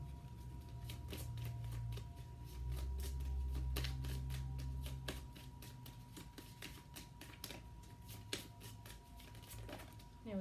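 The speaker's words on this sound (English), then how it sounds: "Shuffling" A deck of tarot cards shuffled by hand up close, quick repeated papery riffles and snaps in an even rhythm over a faint low background hum.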